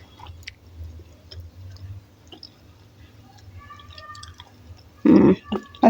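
Someone chews a bite of a homemade chicken wrap with crunchy vegetables, with soft close chewing and small clicks, ending in a few louder bursts.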